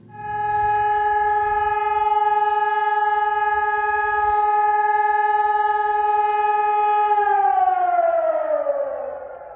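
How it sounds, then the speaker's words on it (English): A civil defense siren sounds across the country to mark Israeli Memorial Day, one sustained, loud, steady wailing tone that holds level for about seven seconds, then slides downward near the end. "Israel's Memorial Day began officially this evening with a 1-minute siren heard across the country"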